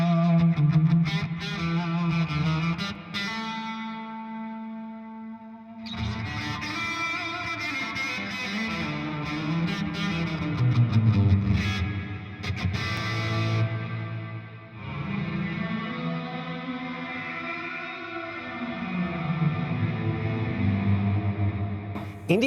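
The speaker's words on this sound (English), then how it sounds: "And I can blend together distortion and reverb." An electric guitar runs through a Walrus Audio Melee wall-of-noise pedal, with aggressive fuzz distortion blended into a wide reverb. Loud, sustained chords swell and wash out over a long, continuous passage with no talking.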